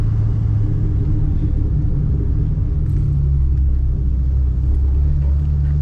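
A modified car rumbles through a tight U-turn, its engine holding a steady low drone close by with a faint rise in effort partway through, no talking.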